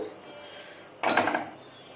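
Chopped almonds are stirred into homemade chocolate in a bowl. After a quiet stretch comes a sudden scrape and clatter of a utensil against the bowl, close and brief.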